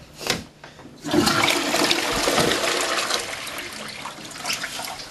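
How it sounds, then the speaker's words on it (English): A toilet flushes with recycled wastewater drawn from a filtered storage tank, a loud, close rush of water that surges after a brief click and keeps gushing and gurgling steadily. "So before we throw it away, we can use it again to flush the toilet."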